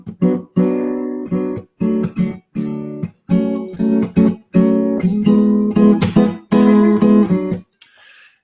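The chord progression returns with closer, smoother voicings, a sequence of rhythmic sustained chords played loudly up close, with short gaps between strikes and a fading tail at the end.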